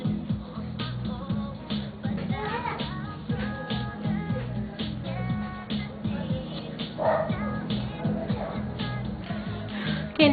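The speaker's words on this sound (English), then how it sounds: "I'm sorry, my dog is barking." A dog out in the garden barks and yips repeatedly in an uneven, agitated rhythm, fairly close and loud, with occasional whimpering between barks.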